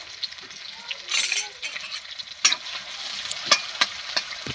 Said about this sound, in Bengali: একটু নাড়াচাড়া করে নিতে হবে